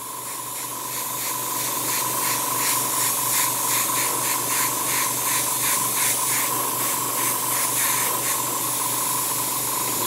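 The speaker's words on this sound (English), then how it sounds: "spray the vent in." Spray paint hisses from a can through a stencil onto a piece of cardboard in a continuous, close, steady spray that runs the full length with slight pulsing, no talk over it.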